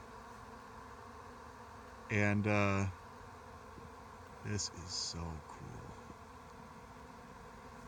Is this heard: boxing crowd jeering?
no